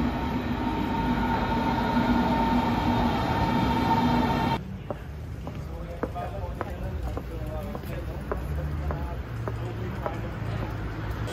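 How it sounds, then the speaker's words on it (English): A Berlin subway train rides along with a steady loud rumble and a high whine, then the tone drops abruptly into a rougher clatter of wheels and rhythmic knocks as the ride continues. "I have to get on the subway again."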